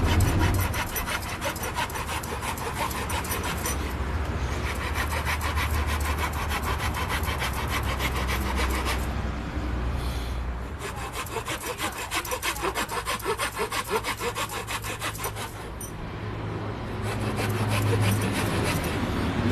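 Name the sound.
wood rasp filing a wooden light sceptre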